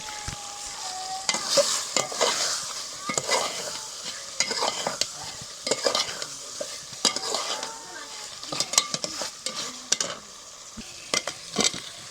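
Beef with tomato and ground cumin stirred in a pot over a clay stove, with steady sizzling and frying beneath repeated scraping strokes of a spoon, close and busy throughout.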